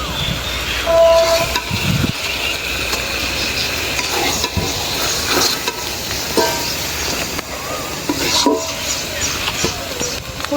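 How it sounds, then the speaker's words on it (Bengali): Taro leaves (kochu shak) are stir-fried in a pan, with a soft sizzle under repeated scraping and stirring strokes and a few sharper clanks of the utensil. "সুন্দর ভাজা ভাজা করছি"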